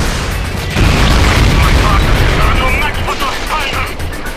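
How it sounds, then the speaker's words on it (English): A video game tank is destroyed by a bazooka explosion, heard as a heavy booming blast with a rumbling low-end tail and crackling debris, sustained and loud, while someone talks over it. "you take out this tank with your bazooka"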